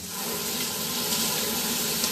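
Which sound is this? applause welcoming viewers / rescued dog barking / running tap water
running tap water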